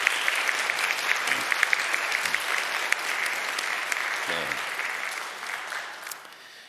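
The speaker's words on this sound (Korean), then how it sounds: "여러분들 환영의 박수 부탁드립니다." Welcoming applause from a church congregation during a Sunday worship service, a dense, steady wash of many hands clapping that fills the room and gradually tapers off toward the end.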